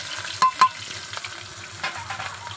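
A small, finely chopped onion sizzles in hot oil, a steady close crackle with two sharp bursts near the start as the pieces go in, then a continuing fry; no talking.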